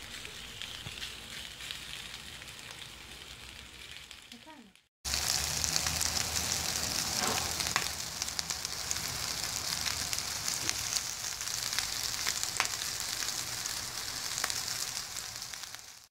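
Köfte meatballs sizzle and fry steadily in a hot cast iron pan, a dense crackling hiss that starts quieter, cuts out briefly, then returns louder and continuous with occasional pops.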